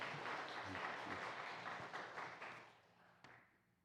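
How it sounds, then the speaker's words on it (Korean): Church congregation clapping for the pastor after a Sunday morning worship service, a steady wash of applause at moderate level that thins and fades toward the end, with a brief sharp tap near the close. "다 같이 목사님께 감사한 마음 담아서 박수 드리겠습니다."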